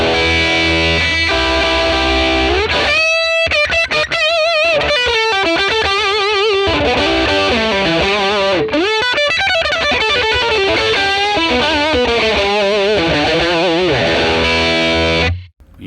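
A Les Paul electric guitar through a Fender 1957 Tweed Bassman amp model plays a loud, driven, distorted phrase of bends and quick runs, continuous for about fifteen seconds before cutting off.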